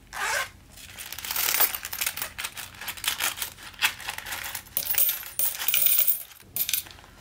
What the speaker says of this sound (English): I do want to empty out my coins.